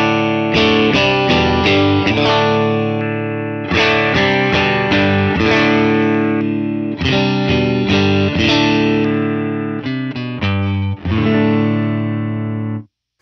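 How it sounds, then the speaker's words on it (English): An electric guitar running through a pedalboard with all effects off plays clean strummed chords and picked notes in four phrases, slightly gritty and close, with brief gaps between phrases. "you're just going to hear the guitar running through the board but nothing on"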